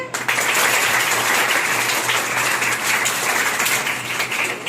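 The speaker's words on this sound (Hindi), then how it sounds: "तो तालियां किसके लिए बजनी चाहिए?" Schoolgirls applaud at a school honours ceremony, a dense, steady wash of clapping that stays loud and even from start to finish with no voices over it.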